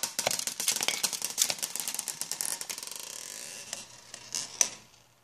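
A Crash B-Daman Reflect Wyvern power-type toy launcher is wound and fired, a quick series of close, sharp mechanical ratcheting clicks that slow and thin out, ending in a few louder snaps.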